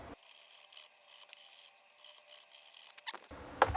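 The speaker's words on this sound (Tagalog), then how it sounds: "Niliha ko lang konti." Sandpaper rubbing on a small part from a Hanabishi electric kettle during repair, a steady close scratchy abrasion lasting about three seconds before a brief clatter.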